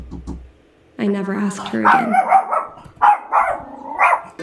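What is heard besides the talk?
dog barking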